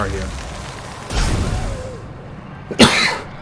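A single short, rough cough bursts out in a Dead Space 2 playthrough, loud and close, followed moments later by a second harsh throat noise over quiet game ambience.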